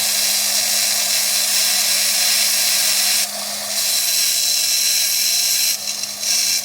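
A rotary carving bit grinds Slaughter Mountain fire agate at slow speed, around 4,000 to 6,000 RPM, giving a loud, steady high-pitched whine that dips briefly twice as contact eases.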